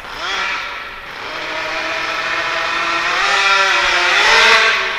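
An ALX 100cc twin engine with dual fuel tanks runs at full throttle, a high buzzing whine that dips briefly and then climbs steadily louder, close and continuous with no talk.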